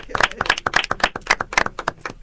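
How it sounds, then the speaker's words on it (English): A small group claps on a podcast set, a few close, distinct hand claps in an uneven rhythm, loud and dry, fading slightly toward the end. "Let's give him a round of applause."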